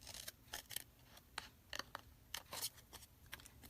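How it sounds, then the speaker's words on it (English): Scissors snip through paper to cut out a square, a run of quick, crisp, close cuts in irregular bursts with short pauses between them, quiet and with no talking. "now you're actually going to cut out the bigger square at the bottom on each side"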